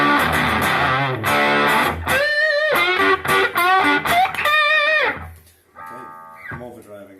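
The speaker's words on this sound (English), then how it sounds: "put the compressor booster in" An overdriven electric guitar through a Yamaha THR10 amp with a compressor booster plays gritty chords and bending lead notes, loud and sustained, then drops to a quieter cleaner passage near the end.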